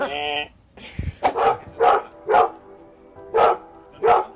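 Dogs bark in a string of sharp, loud, evenly spaced woofs close by, about six in a row, with a brief tonal whine at the start and a voice mixed in.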